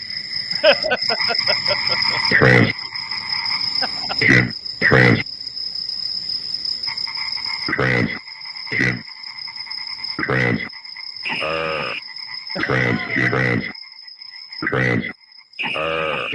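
Frogs croaking in a Budweiser commercial, loud bursts of croaks repeating in uneven clusters against a steady high insect-like trill, close and prominent with short gaps between calls.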